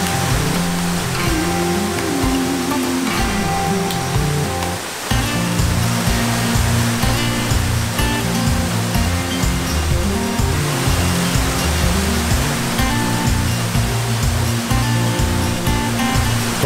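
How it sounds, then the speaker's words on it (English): Twin waterfall in rural Lombok, Indonesia, roars steadily with dense, loud rushing water throughout, a continuous broadband wash with a brief dip midway and no voices. "we very quickly arrived at the first waterfall,"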